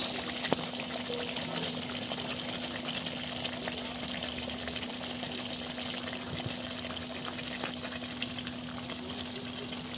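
Water going into a simmering Malai chicken gravy in a pan, a steady soft bubbling and hissing wash that stays faint and constant, with a faint hum beneath.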